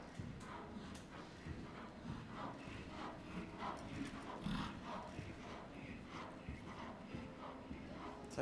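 Hooves of a cantering horse beat a steady rhythmic clip-clop across the footing of a dressage arena by the sea, mid-distance, with a faint dog bark and distant murmuring voices in the background.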